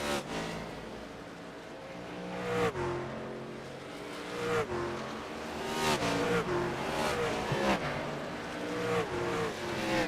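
Race cars roar past continuously on a desert track, engines rising and falling in pitch as they sweep by one after another, loud and close.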